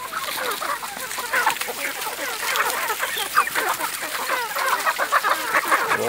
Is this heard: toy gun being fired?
no